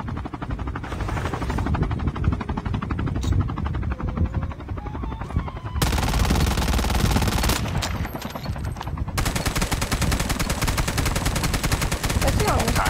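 A shotgun fires in a video game as a dense, continuous roar of loud gunfire with heavy low rumble, surging louder in the second half and running without a break.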